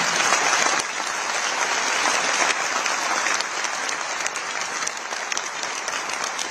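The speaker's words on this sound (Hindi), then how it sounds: "एक हाथ यहां नहीं होना चाहिए जो ताली न बजाए" An audience applauds at a book launch for a Hindi verse translation of the Ramcharitmanas, with dense, sustained clapping that holds steady for several seconds.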